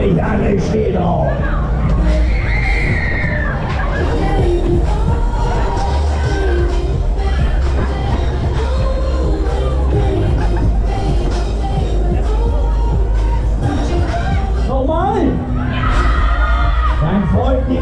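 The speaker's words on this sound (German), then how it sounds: "Oh, schreit mich an, ich stehe drauf." Riders scream and shout on the Polyp fairground ride at the Freischießen Peine 2023 fair, loud and continuous, with overlapping yells, whoops and rising shrieks over rumbling ride noise and music.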